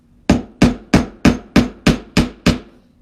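Wooden dowels are pounded into a spool board with eight sharp, evenly spaced hammer blows, each a loud close knock with a short ring, arriving at a steady rhythm.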